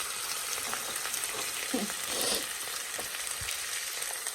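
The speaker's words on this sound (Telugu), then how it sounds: "మిక్స్ వేసి కరివేపాకు ఉల్లిపాయ పచ్చిమిరపకాయ అన్నీ వేసి బాగా వేయించి" Curry leaves, onion and green chillies fry in oil with spice mix for a crab curry, a steady close sizzle with occasional stirring scrapes running throughout.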